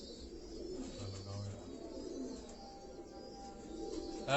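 Pigeons at a champion pigeon fancier's home in Karachi give soft, low coos, one drawn-out call standing out briefly against a quiet background murmur.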